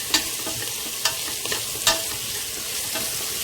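Onions sautéing in a pan for ghee rice, a steady sizzle broken by a few sharp clinks and scrapes of stirring.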